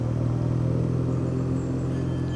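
A steady, close engine rumble from a BMW R Nine T Urban GS motorcycle riding a narrow Lake District road while a wide car goes by, a continuous low drone without talking.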